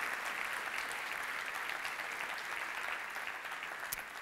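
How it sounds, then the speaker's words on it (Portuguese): A church congregation applauds during a Portuguese-language worship service, steady dense clapping from a large crowd held at an even level throughout. "Quer aplaudir, pode fazer isso."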